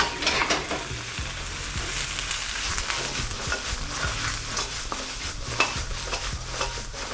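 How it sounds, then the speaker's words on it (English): Onions, spring onion whites and mushrooms sauté in a hot pan for a beef chow mein stir fry, a loud continuous sizzle broken by repeated scraping and stirring strokes, close up with no talk. "Here with your onions, white part of the spring onions, your mushrooms. You wanna saute these for a minute or so, then remove."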